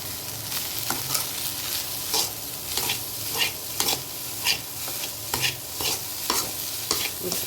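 Instant fried rice with fried rice masala is stirred in a hot pan, a spatula scraping in regular strokes over a soft sizzling bed of frying, close and without speech.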